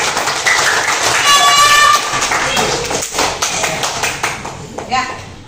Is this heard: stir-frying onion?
no